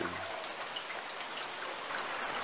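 Steady rain pours down outdoors near a farm pond, a fine continuous hiss of drops with scattered individual splats, fairly soft and unbroken, with no voices.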